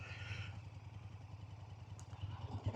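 A motorcycle rolls at walking pace on the clutch alone with no throttle, its low engine putter steady and fairly quiet throughout, with a light clatter near the end.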